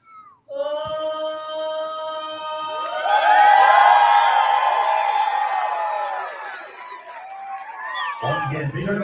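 Stadium crowd cheering and applauding after the anthem singer finishes a performance, a broad loud roar swelling over sustained sung notes and then fading into scattered cheers.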